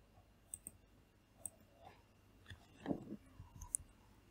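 Computer mouse clicking at a desk, a few sharp isolated clicks spread across a quiet background, one slightly louder double click near the middle.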